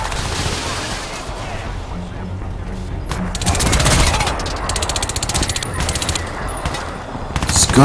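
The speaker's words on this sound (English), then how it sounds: "This gun releases a lot of smoke, so you can't even see who I'm shooting." Rapid automatic gunfire from a smoke-heavy gun in the video game Crysis 2 rattles loudly in dense bursts over busy game noise, with a voice speaking partway through.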